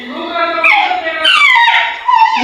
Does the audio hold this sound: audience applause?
no